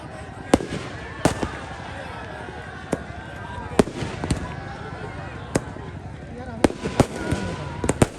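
Firecrackers burst in sharp, irregular cracks at an outdoor cricket final, some close and loud, others farther off, over a steady murmur of people and background noise.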